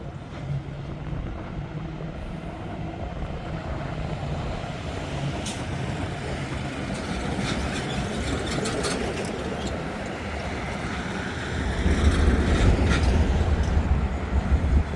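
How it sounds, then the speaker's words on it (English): A loaded CSXT 547 coke train rolls past steadily, a continuous rumble of rail cars building louder toward the end, with faint high squeals and no voices. "CSXT 547 headed this way."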